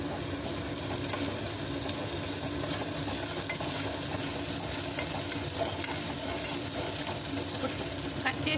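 Green chilli sizzles loudly in hot oil in a pan for brinjal and drumstick curry, with a steady dense frying hiss and the scrape of stirring throughout.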